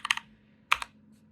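Several crisp keystrokes on a Keychron K2 keyboard, a quick burst of three clicks followed by a pause and then two more, close and clear in a quiet room.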